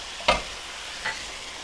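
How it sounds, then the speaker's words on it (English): A spoon stirs tomatoes and water into a sizzling Bombay curry in a pot, two distinct scraping stirs against a soft continuous frying hiss. "let's see about mixing that up."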